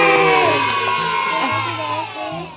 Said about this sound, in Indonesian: Dia tepuk tangan buat Tiara Andini.